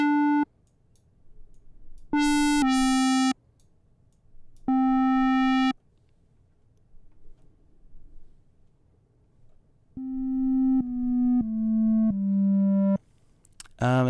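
Synthesizer tones shaped by a filter envelope with varied attack times: a series of separate notes and short phrases, some snapping in bright and others swelling up gradually, separated by pauses, with no talking.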